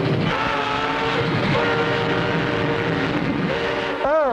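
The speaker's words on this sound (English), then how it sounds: "A train in the tunnel." Train rumbling through a tunnel in a Clutch Cargo cartoon, a dense continuous roar with a sudden bending whistle-like sweep near the end.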